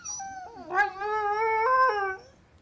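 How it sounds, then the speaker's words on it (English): A dog named Gadget whimpers and howls in a single drawn-out, high, wavering cry that rises, holds and fades, close and clear against silence. "So that's the sound of Gadget and his whimpering"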